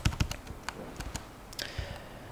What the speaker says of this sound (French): j'essaye de faire du bruit avec mon clavier